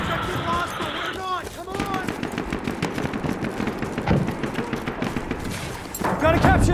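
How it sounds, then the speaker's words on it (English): Automatic gunfire in the Battlefield 1 Domination game, rapid bursts of machine gun shots crackling steadily throughout amid other battle noise, with game voice callouts over it. "Enemy machine gun over there!"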